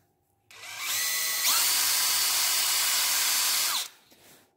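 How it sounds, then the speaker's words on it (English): A power drill whirs up and spins a radio-control car shock shaft at a steady high pitch for about three seconds, then winds down and stops. "I'm gonna go ahead and chuck this in the drill"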